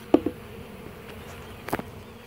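Honey bees buzz inside a package cage during installation, a soft, steady hum broken by a few brief, closer buzzing bursts near the start and again toward the end.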